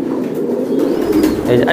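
A racer pigeon coos softly at a large farm of racing pigeons, low throaty calls heard up close while people talk nearby.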